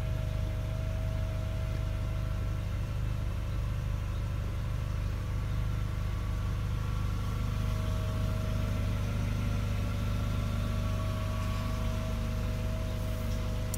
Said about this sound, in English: So let's just hear that engine again.